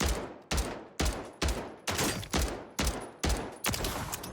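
A Striker shotgun fires at training dummies in Call of Duty on Rebirth Island, nine loud, evenly spaced blasts about half a second apart, each with a short decaying tail, close and with no talk.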